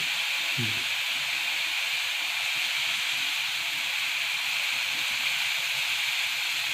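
Agave vegetable frying in oil, a steady broadband hiss and sizzle running continuously throughout, with a faint low knock near the start and no talking.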